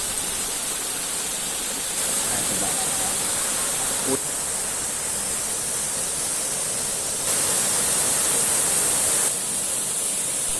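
Steady rushing roar of Ambon-Ambon Falls in Laurel, Batangas, a constant broadband wash of falling water that swells slightly at times.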